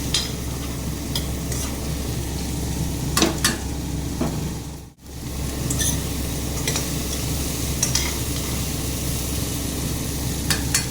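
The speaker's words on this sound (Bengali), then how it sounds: "আলু আর মটরটাকে ভেজে নিচ্ছি" Potatoes and peas fry in a pan with turmeric and salt, a steady close sizzle broken by several sharp stirring scrapes and taps.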